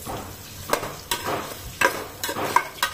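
Onions frying in a few spoonfuls of hot oil with cumin seeds in a pan for fish curry, a steady crackling sizzle broken by periodic scraping stirs, close and alone with no talk.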